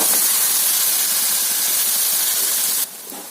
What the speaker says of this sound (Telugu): చూడండి ఫ్రెండ్స్, కర్రీ అయితే వేగుతుంది.